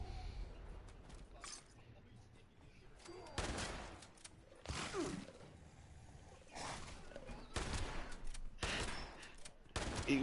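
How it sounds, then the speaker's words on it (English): Bursts of gunfire from the video game Fallout 76, several loud broadband volleys spaced through the stretch with quieter gaps between, a player talking over the action. "I'm shooting him with all the bullets I got."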